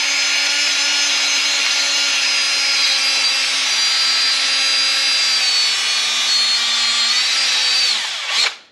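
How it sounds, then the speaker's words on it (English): Wire wheel spinning on a drill, cleaning the inner bearing race of a RZR front hub before a new wheel bearing is pressed in, a loud steady high-pitched whir with scraping grind that winds down at the end. "Why don't we just take a wire wheel and a drill."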